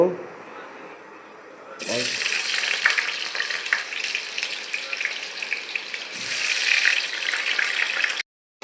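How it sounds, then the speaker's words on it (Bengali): Chopped potatoes hit hot oil over full heat and burst into a loud, steady sizzle that runs for several seconds, with faint clatter and a brief quieter moment near the end. "ফুল হিটে তেল গরম হয়ে গেছে, আলুগুলা ভেজে নেব।"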